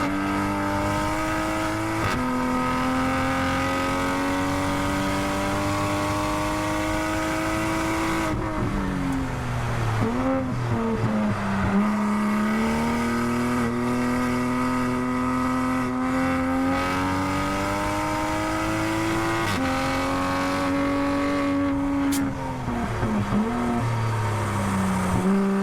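A Toyota Supra running a fast lap at Ridge Motorsports Park, its engine droning loud and close throughout, pitch climbing through the gears and dropping on lifts and shifts.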